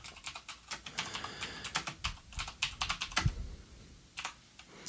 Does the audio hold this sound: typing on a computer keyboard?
yes